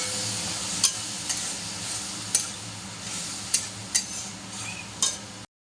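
Kashmiri chili powder masala frying in oil with a splash of water, a steady broadband sizzle with occasional sharper clicks and scrapes of stirring, close and fairly constant, no voices.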